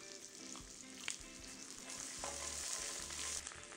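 Garlic frying in oil crackles with a soft, continuous sizzle and occasional stirring scrapes and taps against the pan, quiet and close.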